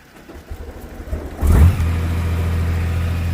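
A Honda Goldwing motorcycle with a dead battery cranks and then fires up, its engine catching abruptly after a short struggle and settling into a steady, loud idle nearby.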